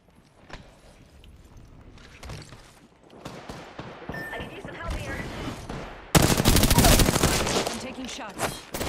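Video game gunfire, scattered shots building into a loud burst of rapid automatic fire near the end, mixed with game sound effects.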